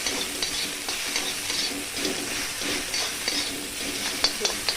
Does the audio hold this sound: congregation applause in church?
no